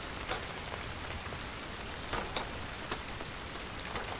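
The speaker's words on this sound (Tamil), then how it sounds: "ஐயோ மழை என்னடா இப்படி பெய்யுது?" Heavy rain pours down in a dense, steady hiss with scattered sharper drops spattering on surfaces, even and close throughout with no voices.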